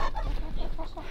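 Backyard chickens cluck and murmur close by, a busy, low chorus of short calls from several birds with no one talking.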